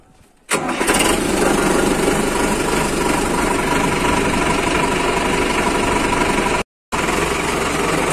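A Swaraj 5911 70 HP tractor engine starts up and runs loudly and steadily up close, with a brief cut-out near the end before the rumble continues.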